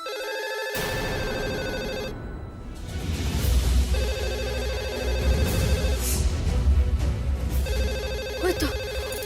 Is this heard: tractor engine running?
no